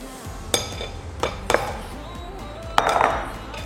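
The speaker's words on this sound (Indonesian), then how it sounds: "Ya, kita aduk." A seafood mentai mixture being stirred in a bowl, with a few sharp, irregular clinks and knocks of a utensil against the bowl over a low background.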